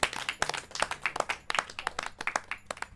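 Scattered hand clapping from a small group in a classroom quiz, quick and uneven, rising briefly and then continuing at a moderate, fairly close level for a few seconds.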